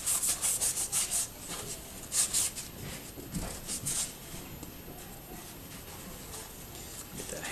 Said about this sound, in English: I'm going to clean off the grease that's on the handles